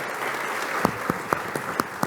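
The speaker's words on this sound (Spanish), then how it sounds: "un fuerte aplauso para él" Audience applause at a youth panel in Panama, sustained crowd clapping with several sharper individual claps standing out, moderately loud and without speech.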